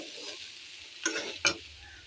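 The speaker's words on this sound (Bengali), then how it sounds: "5 মিনিট চাপা দেওয়ার পরে এই নাড়বো এবার" Thor curry (banana stem) stirred in a pan after being covered, a soft sizzle running throughout with two distinct scraping stirs near the end, quiet and close.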